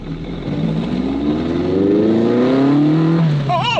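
A car accelerating across a parking lot, a loud engine climbing steadily in pitch through the revs, with a brief squeal or voice at the very end.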